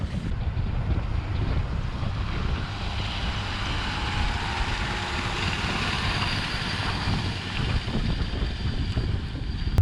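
A steady breeze blows across a farm field on a chilly, sunny day during rye harvest, buffeting the microphone with a constant rushing roar and low rumble, no one speaking.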